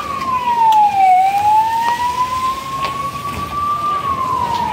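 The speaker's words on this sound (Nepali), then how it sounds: "अब एम्बुलेन्स पनि आइसक्यो के भयो यार रोडतिर है" An ambulance siren wails loudly on a road during a street protest, one long sweeping tone that dips and rises steadily over the surrounding traffic noise.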